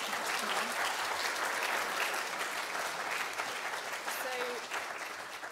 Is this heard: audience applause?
yes